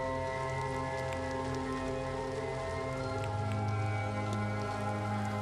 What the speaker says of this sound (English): just out here in the rain? No umbrella?